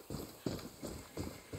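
Hooves of a zebra-patterned horse clip-clop in Far Cry 6, five evenly spaced, fairly soft hoofbeats in a slow walking rhythm, with no talk over them.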